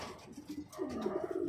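Racing pigeon cooing on arrival from a 104 km training flight out of Moncada, Tarlac; a few soft, close coos, the second half a longer, clearer rolling coo, with no talk.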